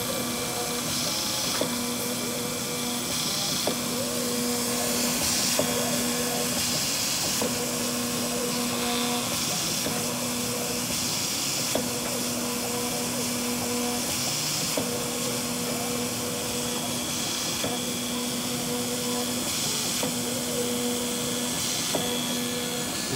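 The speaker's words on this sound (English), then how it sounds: "We're going to be using a engraving cutter, and you can hear the vacuum system on there" A Gravograph IS400 engraving machine hums steadily under a vacuum's constant whoosh, with a repeating cycle of tonal motor whines as an engraving cutter works a two-ply plastic plaque.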